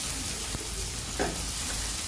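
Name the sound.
stir-frying egg with tomato in a pan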